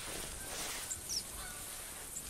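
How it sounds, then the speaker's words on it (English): Canada geese in the hunting game theHunter give a few faint, brief honks, including a short double honk, over a steady hissing wind-like ambience. "More Goose coming, so I might try and call them down."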